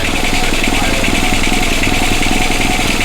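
Carbureted engine idling after its carburetor was cleaned, with a clogged jet cleared and the float and metering rod adjusted; a loud, close, steady throbbing idle that runs evenly throughout.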